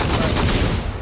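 Rapid bursts of gunfire from guns in the Batman Arkham Knight video game, Red Hood story pack, fill the stretch with a loud, dense, continuous rattle that thins out near the end.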